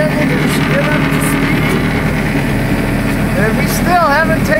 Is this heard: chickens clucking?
no